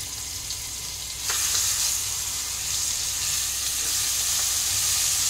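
Ginger paste added to young jackfruit frying in a pan, giving a loud hiss that swells as it hits the oil and then holds as a constant close sizzle with a brief scrape, no voices.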